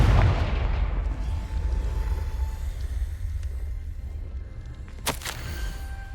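A Confringo spell goes off in a video game: a heavy booming blast that rolls off into a fading rumble, then a sharp crack near the end.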